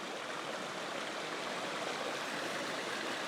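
Water tumbles over stones in a little cascade within a Dartmoor grotto river, giving a constant near rushing wash, smooth and level from start to finish, with no one speaking.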